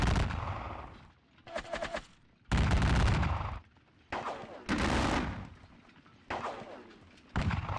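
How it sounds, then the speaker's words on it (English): Musket volleys in the Napoleonic war game WDS Napoleonic, fired at skirmishers: several loud crackling bursts of massed gunfire, each lasting about a second, separated by brief quieter gaps. "Yeah, shooting at those skirmishers."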